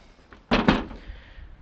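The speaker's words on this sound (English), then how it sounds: "You can actually open this door as well." A door in the Onkoshi Chalet room opens with a single clunk and a quick second knock of the latch, loud and close, followed by a soft room hum.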